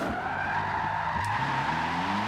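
A Ferrari 458 with a 4.5-liter V8 in the Forza Horizon racing game skids with a sustained tire squeal over a steady engine drone, continuous and fairly loud.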